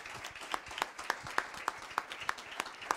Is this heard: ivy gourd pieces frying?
no